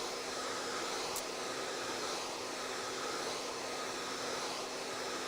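A handheld blow dryer runs steadily at close range for a few seconds on a salon styling job, a continuous whooshing roar with an even hum, no talking over it.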